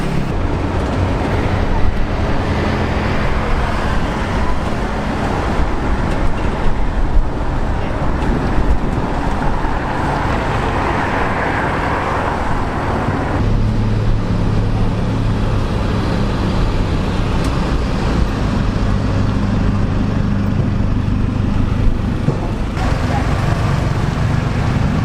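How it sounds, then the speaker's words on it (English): A ride in an open-sided songthaew baht bus through Thai traffic: a steady engine drone with road rumble and wind buffeting the microphone, the engine note shifting midway as the vehicle changes speed. "That's our Baht bus just sat in the background"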